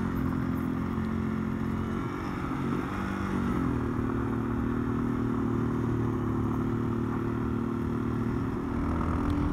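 A Yamaha XT225 motorcycle rides on gravel at sunset, its engine a steady, close drone that holds an even pace throughout, with wind and rattling underneath and no talking.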